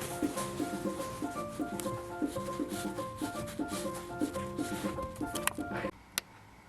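Fast spike traps in the Super Mario 3D World video game clatter in a quick, regular dance-like rhythm over bright game music, steady for about six seconds before the music drops out and a single sharp hit follows.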